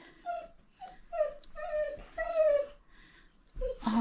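A pet dog whimpers and whines in a run of high, thin, pitched cries, several short yelps rising and falling close by, with a brief pause before a final louder whine.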